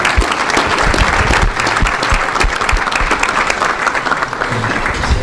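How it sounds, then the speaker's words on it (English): A small business forum audience claps loudly and continuously in a dense, even round of applause for two chamber members, close and filling the room throughout. "let's give Neil and AK one more round of applause"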